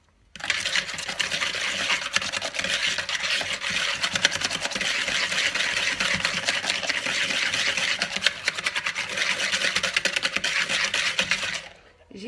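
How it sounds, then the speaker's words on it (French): Steady, brisk whisking of egg yolks with sugar in a bowl for a chocolate liégeois cream, a continuous dense scraping and clinking rhythm that runs loud and unbroken for the whole stretch, with no voices. "Je vais fouetter mes jaunes d'œufs avec mon sucre."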